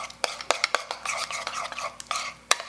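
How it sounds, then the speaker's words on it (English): A spoon stirs jam in a bowl to loosen it, producing a series of sharp clinks and taps against the dish amid soft scraping, irregular and close up. "I first want to stir it a little bit so it gets a little more liquid"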